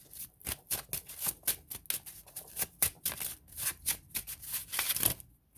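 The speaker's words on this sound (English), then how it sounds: "let's shuffle a little more" Playing cards being shuffled in repeated quick riffles, a dense rhythmic run of crisp flutters and snaps, close and loud with no talking.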